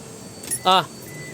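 Car keys jangle briefly as the key is pulled from the ignition of a 2012 Toyota Innova, a short, close metallic rattle lasting under a second inside the quiet cabin, with no talk over it.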